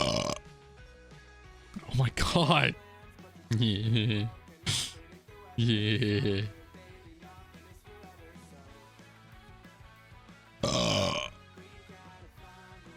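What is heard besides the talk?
burping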